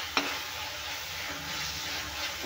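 Curry leaves crackle in hot oil with browned masala in a pan, a steady close sizzle with one quick click of a utensil near the start and gentle stirring throughout.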